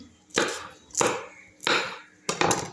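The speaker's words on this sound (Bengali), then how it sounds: "কিছু কাঁচামরিচ কেটে নিচ্ছি" A knife chops green chillies on a board in a kitchen, four crisp evenly spaced cuts, close and clear with no talking.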